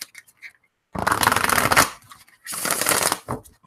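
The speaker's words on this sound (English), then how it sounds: "I'll do a couple of shuffles." Oracle cards being shuffled by hand in two quick bursts of dense riffling, close and clear, with a short pause between them.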